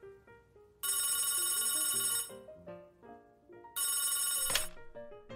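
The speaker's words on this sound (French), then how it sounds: "le téléphone!" A telephone bell rings in two long bursts separated by a pause, bright and close, with soft background music underneath and no talking.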